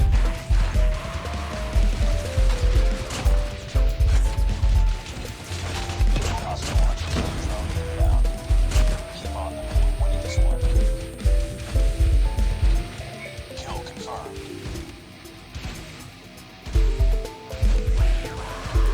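Steady mechanical clanking and grinding with rhythmic ratcheting from a slow walking robot in Call of Duty Mobile lumbering along, with scattered impacts layered throughout.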